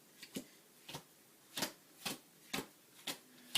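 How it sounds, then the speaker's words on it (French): Playing cards are dealt into piles during a card trick, giving about nine soft, crisp slaps in a loose rhythm, close and quiet with no talk. "Et donc là, vous refaites encore vos paquets de cartes, ici."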